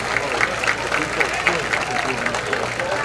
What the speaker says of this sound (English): Crowd getting into it here, clapping their hands in unison as one.